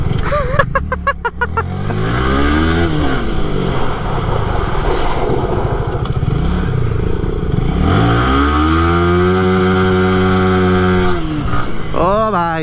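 Motorcycle engine revving hard and steadily while the bike drifts on a road during New Year, with rising and falling pitch sweeps throughout and a brief clattery burst near the start; loud and close, no talk over it.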